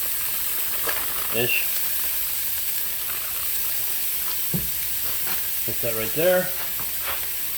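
Rice and beans fry in a pan for keto gallo pinto, a steady close hiss of sizzling grease running throughout while a person speaks briefly over it.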